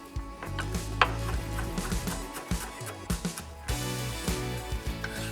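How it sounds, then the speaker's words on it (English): Fresh dill is finely chopped with a knife on a cutting board, a close series of uneven, sharp taps and thuds with brief pauses between bursts. "I'll also add some dill. We'll just use a few of these sprigs, the rest we can use to garnish. And we'll just finely chop that."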